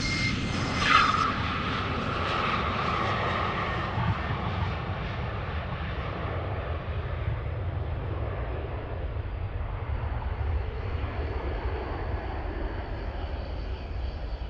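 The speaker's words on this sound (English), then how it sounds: "I hear the turboprop spooling up, so I think it might be lining up." A turboprop airliner's engines spool up at Amsterdam Schiphol Airport on a runway 36L departure, a loud sustained roar with a whining tone that settles into a broad, steady rumble lasting throughout.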